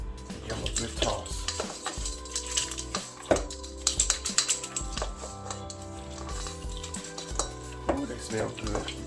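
Hot honey butter wings tossed in sauce in a metal bowl, with irregular clinks and scrapes, soft wet sloshing and clattering taps close by, a faint voice briefly in the background.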